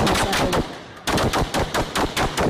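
Close, loud gunfire in a shootout between Ukrainian soldiers and pro-Russian fighters: a dense run of sharp shots, then after a brief lull a steady series of evenly spaced bursts, with no talk.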